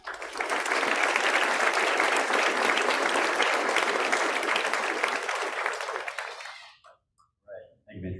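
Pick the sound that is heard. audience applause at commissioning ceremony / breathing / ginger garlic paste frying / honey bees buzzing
audience applause at commissioning ceremony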